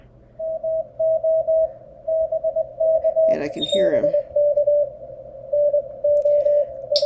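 Morse code sidetone from a Parks on the Air station on the ham radio 20-meter band, a steady tone keyed in rapid dots and dashes, with someone talking over the middle.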